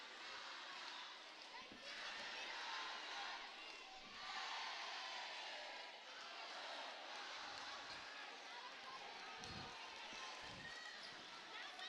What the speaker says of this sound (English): One of the most fired up I have ever seen the Lancer crowd.